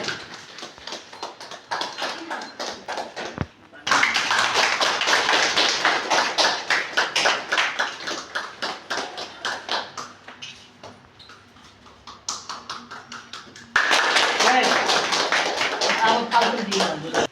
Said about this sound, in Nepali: तालीबाट जोडी स्वागत गर्न आउनु भने